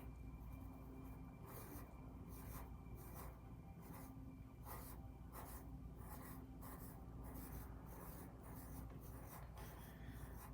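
A pen scratches across paper while a little flower is drawn, a steady soft rasp broken into short regular strokes with brief gaps, close and alone.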